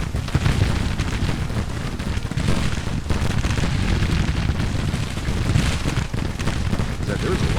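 Battle gunfire in the Civil War strategy game Grand Tactician rolls on without pause, loud overlapping musket volleys and booming shots forming a thick, continuous din.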